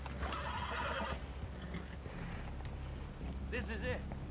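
Horses whinny and hoofbeats clip-clop in Red Dead Redemption 2, with a sharp neigh near the end over steady low rumble and background game sound, while voices talk.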